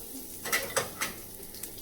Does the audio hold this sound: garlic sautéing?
yes